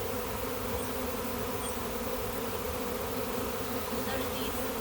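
A honey bee swarm in Galesburg makes a steady, dense buzz that stays even throughout, with no voices over it.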